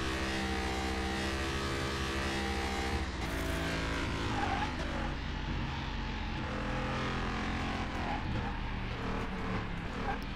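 A Land Rover driven in Car Mechanic Simulator 2021, its engine humming steadily with strong low harmonic tones, rising and falling slightly as it accelerates through turns, loud and continuous without a break.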